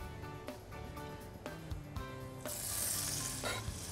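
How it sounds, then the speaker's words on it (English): Deep-fried bread sizzles in a hot pan with scattered clinks and scrapes, then the frying hiss swells louder and brighter partway through. "We got that sizzle going,"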